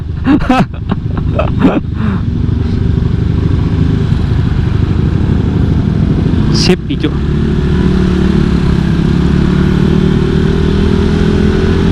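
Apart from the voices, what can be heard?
new motorcycle engine while riding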